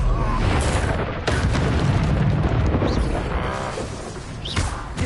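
The Bombarda spell goes off in the video game Hogwarts Legacy, a loud rumbling blast that fills the clip, with a sharp burst partway through and a slowly fading roar.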